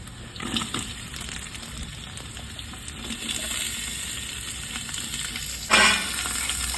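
Vegetables, carrots and cabbage, frying in mutton fat for a village-style Bengali khichuri, with a steady close sizzle and stirring scrapes, plus a brief louder splash-like burst of sizzle near the end.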